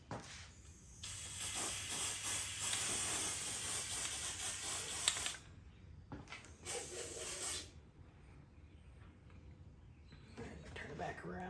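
Black spray paint hisses from an aerosol can onto a staff prop in two close bursts, a long spray of about four seconds and then a shorter one, with quieter handling noise between them.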